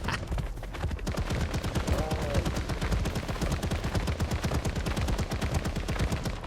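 Rapid, sustained bursts of gunfire ring out while charging through a fight in ARK Survival Ascended on an Andrewsarchus, steady and loud throughout with dense repeated shots.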